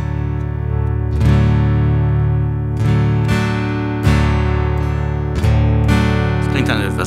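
Electric guitar chords ring out through a TC-Helicon VoiceLive 3 Extreme effects processor, with sustained processed tones and several strummed attacks over about seven seconds.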